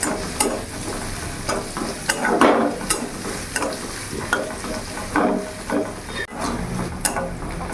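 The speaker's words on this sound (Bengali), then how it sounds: "কিছুক্ষণ ভেজে নেবো যাতে কাঁচা ভাবটা পেঁয়াজে চলে যায়" Onions fry with a steady sizzle in a pan while a spatula stirs them in repeated scraping strokes, close and continuous, with no talking.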